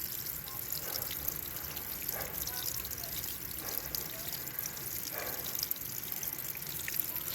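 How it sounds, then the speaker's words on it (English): Water trickles and drips steadily off moss nearby, a soft continuous splashing with small droplets falling throughout. "The water dripping off the moss."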